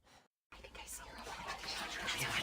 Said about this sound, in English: she heard whispering.